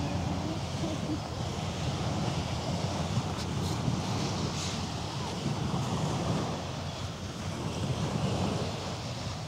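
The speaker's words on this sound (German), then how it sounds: "Hoffentlich hört ihr auch die Wellen rauschen dazu." Water in Hamburg harbour makes a continuous broadband rushing wash, steady and fairly loud, with wind buffeting the microphone and no clear talking.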